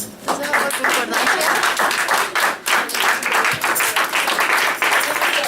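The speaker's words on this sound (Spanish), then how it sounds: "Un fuerte aplauso al Señor." A Spanish-speaking church congregation gives a loud, sustained round of applause for the Lord, dense clapping filling the room without a break as a voice calls out over it.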